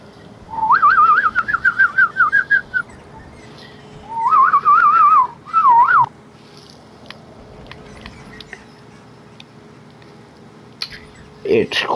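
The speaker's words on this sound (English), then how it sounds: "And then you can whistle like that." Melodic whistling in the video game Mafia: Definitive Edition, two warbling whistled phrases over steady game ambience, with someone speaking.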